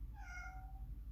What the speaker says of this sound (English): That's my cat yelling.